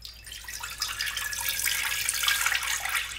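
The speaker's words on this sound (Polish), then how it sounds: "I zalewamy to wszystko wodą, wodą o temperaturze pokojowej." Room-temperature water poured over flour and yeast for homemade pizza dough makes a continuous splashing trickle that swells slightly as the pour goes on, close and alone without talk.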